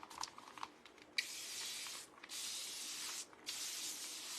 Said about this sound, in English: this is just a mister. It is not, you know, a full spray